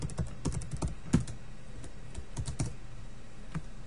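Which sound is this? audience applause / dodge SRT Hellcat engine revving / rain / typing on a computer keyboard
typing on a computer keyboard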